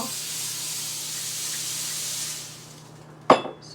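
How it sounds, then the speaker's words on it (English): A steady hiss of cooking spray sprayed onto a waffle maker for a few seconds, close and moderately loud, ending before a sharp click. "So I have cooking spray"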